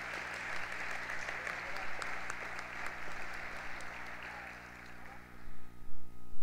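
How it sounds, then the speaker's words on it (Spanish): An audience claps for a graduating student at a Chilean school graduation ceremony, producing fairly soft, even applause that thins out toward the end, where some louder, closer handclaps and rustling stand out. "Un gran aplauso para Nicolás"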